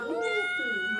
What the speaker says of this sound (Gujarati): જો આ છે એની બિલાડી.